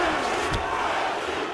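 Arena crowd in the UFC 5 video game, a dense steady roar of cheering and shouting that stays loud throughout, with a brief louder burst near the middle.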